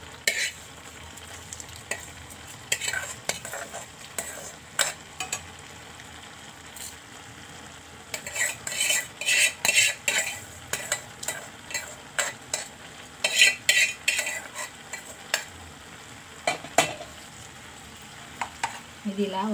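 Ridge gourd curry with dried shrimp and tempering being stirred in a pan, giving soft scraping and sizzling that comes in bursts of rhythmic stirring strokes over a steady low frying hiss.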